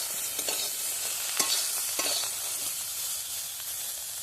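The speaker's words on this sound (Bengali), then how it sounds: "ওর মধ্যে আমি এবার ডিম কড়াই দিয়ে একই সাথে ভেজে নিচ্ছি" Cauliflower and mixed vegetables fry alongside egg in a kadai for a home-style village mixed vegetable dish, giving a steady close sizzle broken by a few scraping stirs of the spatula.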